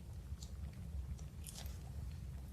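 Crisp crunching bites of a red apple with chewing, several sharp crackles scattered over a low rumbling background, close and fairly quiet.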